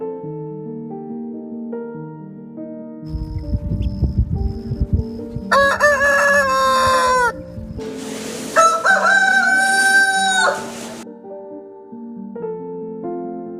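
Roosters crow loudly in two long, drawn-out calls, close and clear, with a flurry of flapping and scratching before them and softer hen clucks scattered through.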